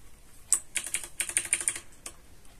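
Quick bursts of computer keyboard typing as a terminal command is entered for a Pop OS and Windows dual-boot setup, close and clear, with several rapid key clicks clustered together and no talking.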